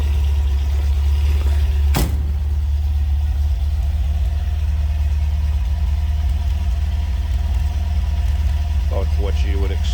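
A 1975 MG MGB convertible's 1.8-liter, 1798 cc engine idles steadily in a low, even drone heard from behind the car, with a sharp knock near the start and someone talking toward the end.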